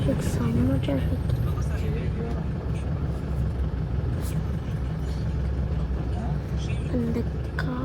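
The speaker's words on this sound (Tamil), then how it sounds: "செம்ம டிராஃபிக்." Heavy road traffic near the Kalady bridge, with a steady rumble of cars, trucks and buses passing close by, continuous throughout, with a few faint horn-like tones and voices under the roar.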